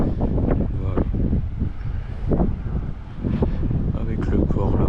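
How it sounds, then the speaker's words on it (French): Strong wind blows at an elevated seaside lookout in Geraldton, Western Australia, buffeting the microphone in loud, continuous rumbling gusts while someone talks over it. "Il y a pas mal de vent, j'espère que c'est pas chiant"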